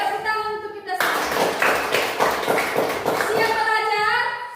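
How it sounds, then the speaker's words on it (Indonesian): A class of children in a school classroom claps hands together in a loud burst lasting about three seconds, with young voices speaking just before and after. "Tepuk tangan untuk kita semua"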